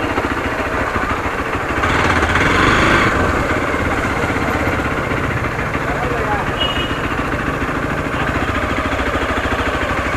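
A motorcycle engine idles steadily as the bike is parked near a waterfall on a monsoon ride, a continuous low rumble with a slight rise in loudness early on, heard alongside ambient noise and voices.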